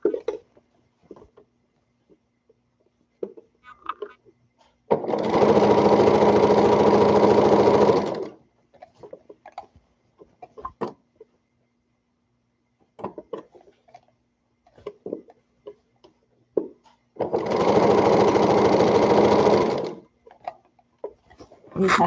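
A sewing machine straight-stitches a toddler peasant dress in two steady, loud runs of about three seconds each, separated by quiet handling, rustling fabric and soft clicks.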